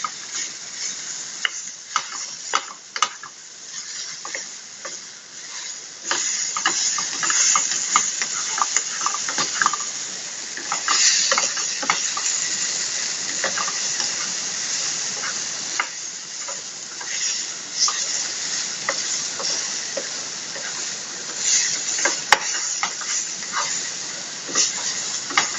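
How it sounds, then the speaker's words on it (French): Vegetables fry in a pan with a steady crackling sizzle and hiss, loud and close, with irregular pops and occasional stirring that make it swell at times, and no talking. "on repart pour un petit ASMR"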